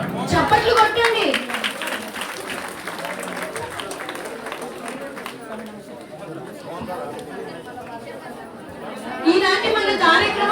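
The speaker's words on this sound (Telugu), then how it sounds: "చప్పట్లు కొట్టండి." Applause and chatter fill a school parents-teachers meeting hall as the committee chairperson is invited to the stage, with clapping mixed under crowd talk and a louder burst near the end.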